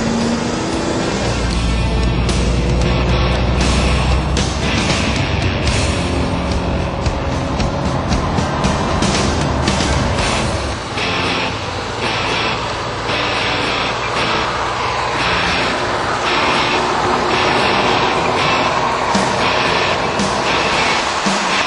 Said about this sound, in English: if you push the loud pedal all the way to the floor, it scares you to death.